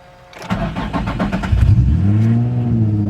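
A carbon-fiber-bodied Nissan 350Z engine cranks over and catches, then revs up into a loud, close rumbling idle that settles and holds steady.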